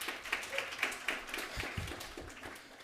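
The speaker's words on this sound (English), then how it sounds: "Round of applause for Professor Eisman." Scattered audience clapping for a professor at a campus guest-speaker event, a thin, brief round of claps from a modest crowd that fades out within a few seconds.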